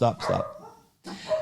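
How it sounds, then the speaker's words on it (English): A dog barks close by in a few quick, sharp bursts, with a short pause before the last yapping bark. "sorry for the barking"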